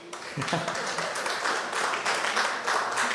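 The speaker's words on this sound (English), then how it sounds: "those are members of the youth league clapping, by the way" Members of a party youth league clap at a constituency conference gathering, a steady broadband patter of applause filling the clip at moderate loudness from start to finish.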